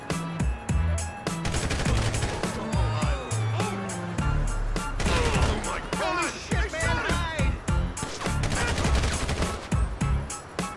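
Rapid bursts of GTA V Online gunfire crackle in dense, irregular clusters. Busy game sounds and voices run underneath, keeping the whole passage loud.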